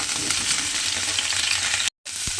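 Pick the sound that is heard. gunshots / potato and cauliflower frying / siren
potato and cauliflower frying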